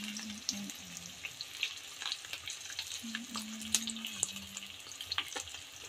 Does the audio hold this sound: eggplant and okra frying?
yes